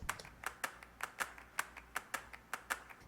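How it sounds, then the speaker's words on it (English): Clap loop in a pop song production: crisp, evenly spaced handclap hits repeating in a quick steady rhythm, dry and up close, with no talking. "This is the clap loop."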